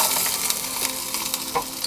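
Garlic and chili fry in a titanium pan, giving a bright, continuous sizzle with a few stirring scrapes and crackles, close and alone.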